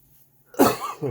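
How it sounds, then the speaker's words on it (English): A single harsh cough, close and abrupt, following a moment of near silence, with a short second burst at the end. "Sorry, coughing there."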